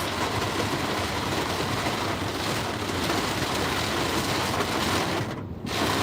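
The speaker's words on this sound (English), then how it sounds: "Y'all hear how crazy the rain is going right now?" Steady, dense rain roaring without letup, like a heavy downpour drumming on a car roof, heard from inside with no voices.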